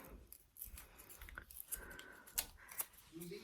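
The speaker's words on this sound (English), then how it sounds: "You just give them a little flick with your scissors." Scissors give small flicks to curl paper carnation petals, quiet close snips and rustles scattered irregularly over a soft background, with no speech.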